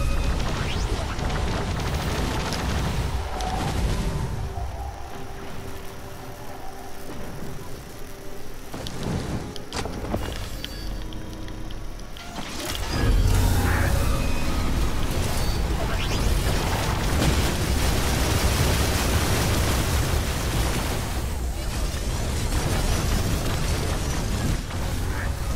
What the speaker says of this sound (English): Lots of fireworks.